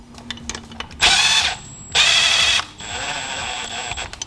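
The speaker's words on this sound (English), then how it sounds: "I'm going to snug up these bolts" A power tool whirs in two short, loud bursts and then a steadier run, snugging up bolts on a Seadoo 717 engine during a rebuild, close by with no talking.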